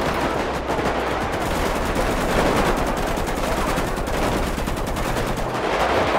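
Rapid gunfire in a GTA-style video game rattles on without pause during a gang attack in a favela, bursts of automatic shots piling into a loud, dense barrage.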